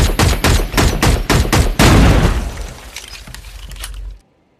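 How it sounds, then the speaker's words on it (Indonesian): A rapid volley of loud pistol shots in a film shootout, sharp cracks in quick succession, followed by a lingering rumbling echo that fades before cutting to silence. "tiba-tiba si Udin menembakkan pistol ke arahnya, namun Jane membalas tembakan"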